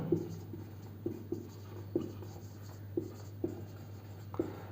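Chalk taps and scrapes on a classroom board as a physics formula is written out, about seven distinct strokes over a steady low hum, no voice heard.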